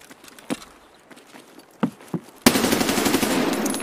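Gunfire in the video game Escape From Tarkov, inside a building stairwell: a few single sharp shots, then a dense loud burst of automatic fire sustained to the end, with no talk.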